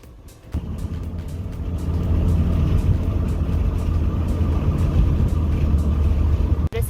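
A car rolls slowly along a dark rural road at night, its low rumbling engine and tire noise building and then holding steady close by, with a sharp knock near the end.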